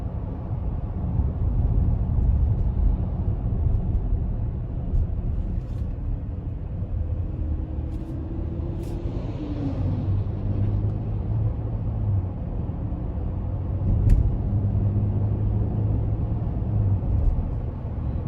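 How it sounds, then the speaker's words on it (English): A Chevy Traverse Redline V6 cruising down a bumpy back road, its low engine and road rumble steady and continuous from inside the cabin, with no talking. "the ride is very controlled coming down this back road"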